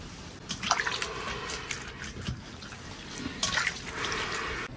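Warm tap water runs steadily while blanched beef is rinsed in a sink, with close splashing that swells and fades.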